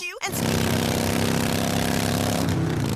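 A radio commercial plays over a loud, steady motorcycle engine that roars up after a brief pause and holds a rough, even drone, with a talking voice barely coming through the engine noise.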